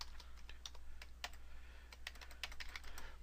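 Keys clatter on a computer keyboard as a macro name is typed, a quick irregular run of light clicks, close and fairly faint over a low steady hum.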